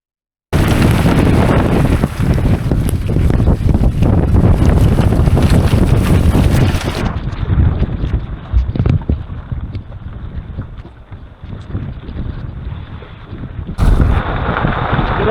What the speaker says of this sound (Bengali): ঝড় দেখুন সমুদ্রে, ভীষণ হাওয়া।